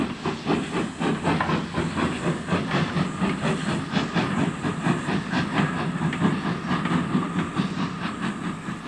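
A3 Pacific class steam locomotive Coronach works the line out of Carlisle. It makes a loud, continuous hiss with rapid rhythmic exhaust beats and clickety-clack from the rails, running steadily throughout.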